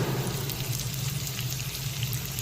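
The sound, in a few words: curry leaves frying in oil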